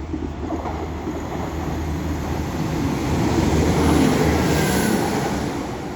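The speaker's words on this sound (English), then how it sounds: "The next train to be coming through will be another Class 195 running from Chester" A Class 195 passenger train passes, a broad rumble that swells louder toward the middle and then eases slightly, with no voices.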